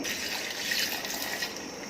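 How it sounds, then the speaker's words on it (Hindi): Water poured into a blender jar while making a jaggery summer drink, a steady close splashing pour lasting about two seconds. "1 कप पानी डालेंगे।"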